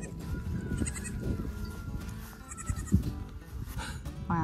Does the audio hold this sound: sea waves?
no